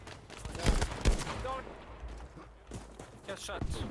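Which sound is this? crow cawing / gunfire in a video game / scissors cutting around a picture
gunfire in a video game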